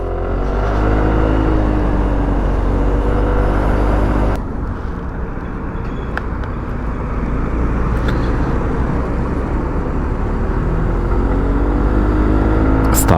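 A Sym ADX 125 scooter pulls away and rides on, its engine note loud and steady throughout, dipping briefly partway through before building again, with no talk over it.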